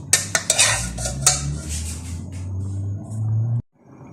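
Korean noodles go into a cooking pot with several sharp metallic clinks and scrapes of utensils against the pot over a low burner hum, ending abruptly.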